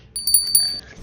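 A notification bell ding: a bright two-tone chime struck several times in quick succession, clear and close, ringing briefly before a softer tone fades out.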